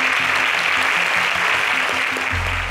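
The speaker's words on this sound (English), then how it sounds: "A round of applause for them" A studio audience at a national agricultural science quiz contest claps steadily, a dense even burst of applause lasting a few seconds with no voices on top.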